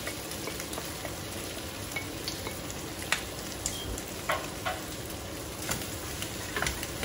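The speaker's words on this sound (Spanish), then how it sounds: "como los camarocitos ya resecaron y ya están empezando a dorar, ahora sí le voy a poner la cebolla" Small shrimp browning in a hot pan as onion and cilantro go in for shrimp tacos, a steady close sizzle with scattered sharp pops and the occasional scrape of a utensil.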